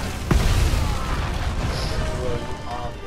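A low boom from explosions in the Monster Hunter World Iceborne video game lands early, then a dense rumbling wash of blast noise carries on loudly to the end.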